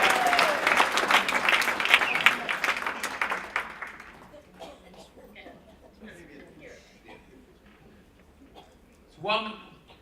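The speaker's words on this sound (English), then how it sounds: "I'd like to give a big round of applause, bring to the stage, Rabbi Barry Schechter" Loud audience applause at a live stage event with a rabbi being welcomed, dense clapping that swells then fades after about four seconds, followed by scattered murmurs and a brief burst of laughter or clapping near the end.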